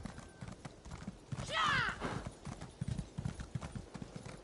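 Horse hooves clip-clop steadily while riding in the video game Elder Scrolls Online, a quick, even rhythm with a short neigh partway through.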